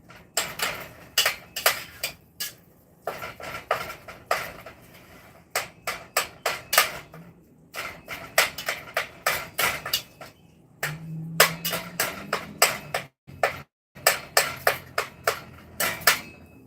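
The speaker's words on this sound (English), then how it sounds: "I'm chopping this up because I don't like big chunks of meat." Meat being chopped for homemade spaghetti sauce, with steady, close knocks of a utensil against the pan or board, repeating in quick runs with brief pauses.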